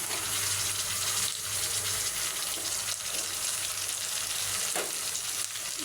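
Onion paste sizzling and frying in a pan while chicken curry is being cooked, a steady loud crackling hiss that runs without pause from start to end, with no talking.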